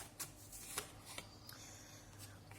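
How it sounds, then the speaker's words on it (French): A faint, close card drawn from an oracle deck gives soft slides and light rubbing with a few small flicks, quiet against a low steady background hum. "on me dit de tirer une carte comme ça"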